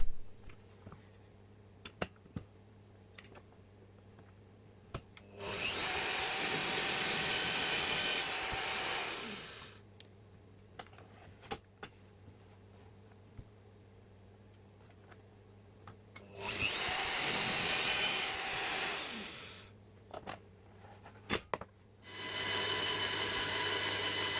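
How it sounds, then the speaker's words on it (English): Two loud bursts of a drill press and a bandsaw cutting through wood, each a few seconds long, separated by a quiet motor hum and scattered clicks. "I do that on the drill press and also on the bandsaw"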